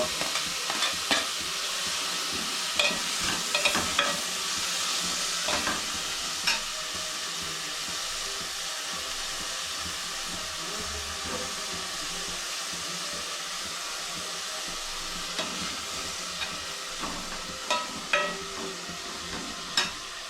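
Tomatoes fry in a hot pan with a continuous bright sizzle, while a spoon scrapes and clicks against the pan in repeated stirring strokes, close and steady throughout.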